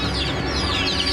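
Many chickens cluck and squawk continuously in crowded, cramped cages inside a hoarder's home, a dense close-up din with no talk.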